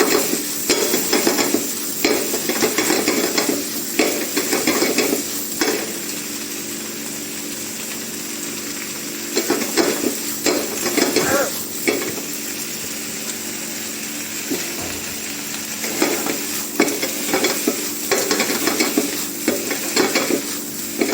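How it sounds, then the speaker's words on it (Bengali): White pumpkin leaves being sautéed and mixed in a pan, with steady sizzling under repeated bursts of scraping, stirring strokes, close and fairly loud with no talking. "এইটা আমি সতে করবো, মিশিয়ে নেবো"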